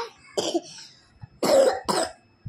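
Two sharp coughs in quick succession, the second pair louder, from someone in a home during a child's exam preparation, heard alone with no talk over them.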